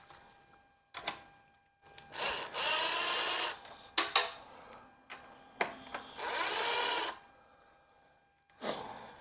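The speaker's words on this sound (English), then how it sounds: "I went ahead and grabbed my impact tool just to make it a little faster to remove these screws" An impact tool loosens bolts on a Briggs & Stratton Intek 206 lawn mower motor, giving a few sustained rattling bursts and sharp clicks separated by quiet gaps, close and fairly soft.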